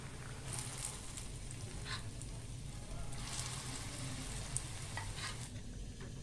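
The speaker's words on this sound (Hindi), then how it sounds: "अब इनको निकाल लेंगे और बाकी के फ्राई कर लेंगे।" Batter pakoras frying in hot oil for kadhi pakora: a quiet, steady sizzle with light popping and stirring scrapes, low in level and unbroken.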